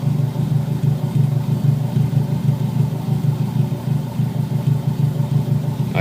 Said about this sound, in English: But the engine sounds good.